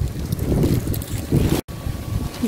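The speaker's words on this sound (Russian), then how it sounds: "О, ветер сумасшедший." Strong wind buffets the microphone outdoors near a park with rides, a loud rough gusting roar with one brief dropout.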